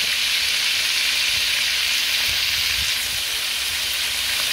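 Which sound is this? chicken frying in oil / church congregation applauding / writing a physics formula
chicken frying in oil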